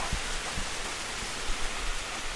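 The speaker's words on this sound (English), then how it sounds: "Wow, the wind out here, and the rain sound." Wind and rain outdoors on a porch, an even rushing hiss of steady rainfall with a few soft low thumps of gusts or drips, close and constant with no talking.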